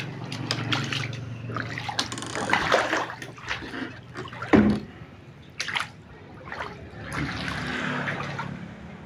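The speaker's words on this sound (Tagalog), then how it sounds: "Maagos na yung tubig." Floodwater flows into a house, a continuous uneven rush and trickle of water with splashy surges, fairly close and moderate in loudness, with no talking.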